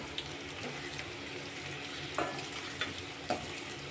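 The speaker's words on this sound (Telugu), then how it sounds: "చూడండి, కాకరకాయలు వేస్తున్నాను నేను." Deep-fried bitter gourd pieces tossed into a hot oil tempering with cumin, giving a steady close sizzle with a few soft stirring clinks, and no one speaking.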